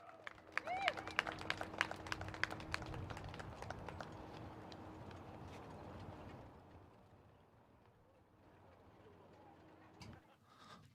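A grandstand crowd at Woodbine Mohawk Park racetrack applauds the retiring horse Sintra, with loud clapping and scattered sharp claps at first that fade to a softer, distant patter and murmur.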